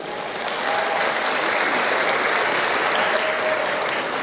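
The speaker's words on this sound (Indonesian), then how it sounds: "Tepuk tangan untuk NU." A crowd at an Indonesian Nahdlatul Ulama religious lecture breaks into applause, swelling quickly into a full, continuous roar of many clapping hands that holds steady to the end.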